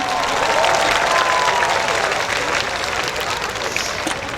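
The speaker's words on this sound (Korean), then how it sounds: "여러분 다시 한번 큰 박수 부탁드립니다" Audience applause at an outdoor summer music festival in Uiseong, a steady wash of clapping that carries through the whole stretch, with a faint voice at the start.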